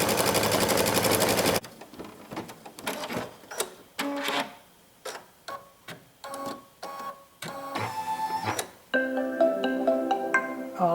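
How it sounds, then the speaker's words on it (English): An embroidery machine stitches out a sample design on hooped fabric, a rapid run of mechanical needle clatter in short bursts and pauses with a steady motor hum, close by and moderately loud, after a brief loud burst at the start. "hoop this with the fabric and load it on the machine. Look how this is stitching out."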